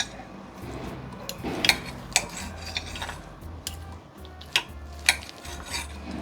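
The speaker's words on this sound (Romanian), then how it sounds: "Deci întâi tăiem carnea, este acum scoasă din oală și e super fierbinte." A knife cuts hot boiled beef into small pieces on a board in a quiet kitchen, with a few sharp clicks and scrapes at irregular intervals and no talking.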